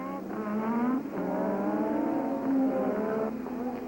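Formula 1 cars from the 1986 Canadian Grand Prix at the Circuit Gilles Villeneuve in Montreal scream past at high revs, with rising and falling engine pitch as they overtake. The cars sound loud and steady, and no one talks.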